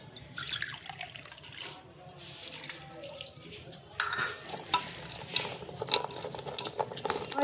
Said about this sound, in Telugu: చిన్న చాయ్ గిలాసుతోటి రెండు గిలాసుల నీళ్ళు పోసుకోవాలి